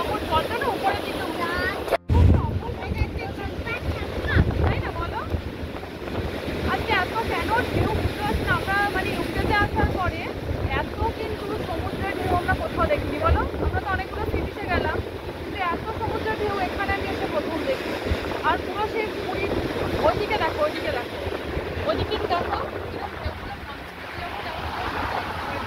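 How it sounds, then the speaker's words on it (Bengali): Sea waves crash and wash along the shore in a continuous surging roar, with gusts of wind on the microphone and a sharp thump near the start; voices are faint beneath. "ঢেউগুলো যখন একটার সাথে আরেকটা ধাক্কা লাগছে"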